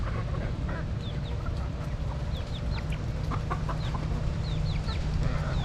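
Hens cluck and chatter in a backyard flock with short repeated calls and squawks scattered over steady background noise, close and continuous.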